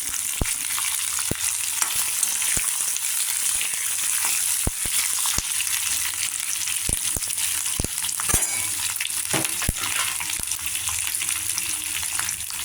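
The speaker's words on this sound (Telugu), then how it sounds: "ఇందులో క్యాప్సికమ్ ముక్కలు చిన్నగా తరిగి పెట్టుకున్నవి ఇది వేసుకోవాలి" Diced capsicum pieces fry in hot oil with a mustard seed tempering, a steady close sizzle broken by frequent sharp clicks and scrapes of stirring, with no talk.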